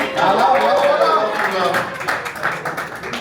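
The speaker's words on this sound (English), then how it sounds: "Round of applause." A small group claps steadily for a few seconds, a fairly close, brisk round of applause with no one speaking over it.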